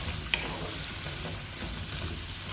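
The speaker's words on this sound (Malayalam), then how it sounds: "ഇതിനൊപ്പം തന്നെ തക്കാളിയും ചേർത്ത് കൊടുക്കുക ഇട്ട് നന്നായി വഴറ്റിയെടുക്കാം" Tomato sautéing in a pan for sambar, a close, steady hiss of frying with soft stirring scrapes and one sharp metallic tap near the start.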